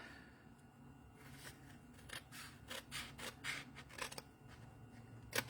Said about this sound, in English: Now, on those 5 3/4 and 2 1/4, excuse me, you're going to cut those off.